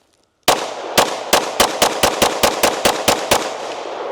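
A Glock pistol fitted in an MCK chassis fires about twelve sharp, loud shots in rapid succession, close by and with no talking.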